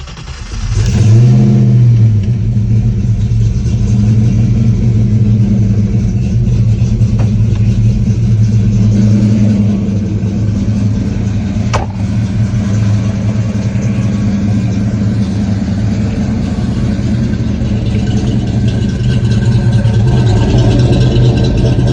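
A 1991 Ford Mustang GT Foxbody V8 cranks and fires, blips into a loud rev, then settles into a steady, rumbling idle that runs on alone and close up for the rest of the stretch.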